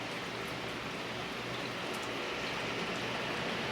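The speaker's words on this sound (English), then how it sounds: "I'm just waiting for this rain to stop." Steady rain falling in a city, a constant even hiss of drops with no breaks, moderately quiet and without voices.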